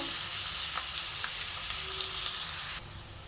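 Steady, close sizzling of food frying in a pan, with a few light stirring clicks, dropping suddenly quieter near the end.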